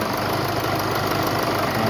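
An engine runs steadily just after its starter solenoid has been triggered, with a close, continuous idle and faint knocking vibration. The level stays even, and no one speaks.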